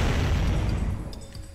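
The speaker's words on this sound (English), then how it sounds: "Oh, it's a cannon." A cannon fires in the Jak and Daxter video game, giving one loud, deep boom that rumbles on for about a second before fading, with no talk over it.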